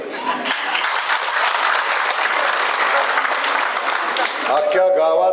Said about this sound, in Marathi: एवढ्या टाळ्यानं कसं जमेल